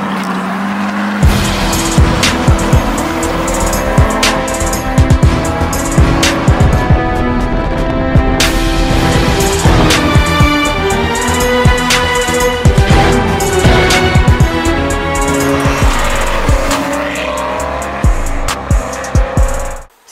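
An Aston Martin engine runs hard and continuously on a shakedown run, revving and shifting through gears with road and tire noise, loud and close throughout.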